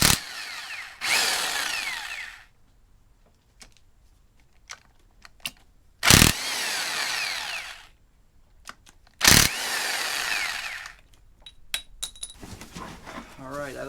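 A power tool removes 13 mm bolts from a GM Ecotec engine short block in three loud, close bursts of whirring. Each burst is followed by quieter clinks and handling noises.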